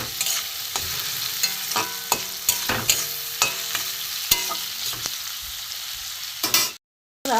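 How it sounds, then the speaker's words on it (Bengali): Chopped tomato and onion fry in a pan over a high gas flame, giving a continuous loud sizzle broken by regular scraping and stirring strokes before a brief cut to silence near the end. "একটু টমেটো পেঁয়াজ ভাজা হোক, গ্যাসটা একটু জোরে দিলাম"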